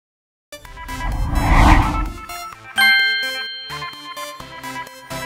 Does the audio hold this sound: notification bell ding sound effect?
yes